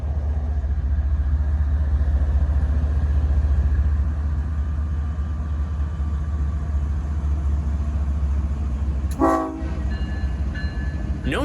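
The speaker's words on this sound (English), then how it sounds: "Kansas City Southern's safety unit was out in front at the head of a mixed freight train" Kansas City Southern safety-scheme locomotive leading a mixed freight train, a steady loud rumble of rolling wagons throughout, with a brief horn-like tonal burst near the end.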